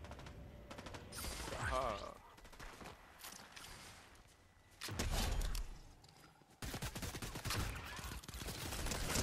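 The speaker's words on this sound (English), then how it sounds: "So I hear shooting north." Fortnite Chapter 4 Season 4 gunfire in several dense bursts of rapid shots, loud and close, separated by quieter gaps, with a voice talking over the action.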